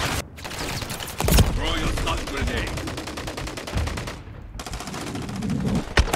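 Bursts of AK-50 fire ring out in a Call of Duty match, with rapid repeated shots in several clusters, loud and close, separated by short gaps.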